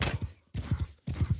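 A horse's hooves clop in the Old Realms Warhammer mod video game, coming in three short bursts of paired thuds with brief gaps between them, close and fairly soft.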